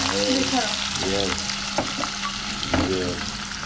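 Pieces of hilsa fish fry in hot oil with a loud, constant sizzle close by, broken by a few soft stirring scrapes.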